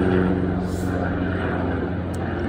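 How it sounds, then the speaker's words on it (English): A constant low, throbbing helicopter rotor and engine drone fills the whole stretch, loud and steady as it passes close overhead. "Excuse the helicopter ride."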